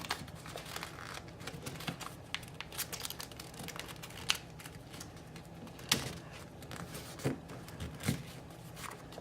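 Origami paper for a paper flower being folded and creased, giving dense crinkling with sharp crackles and snaps from close by, alone and with no talking.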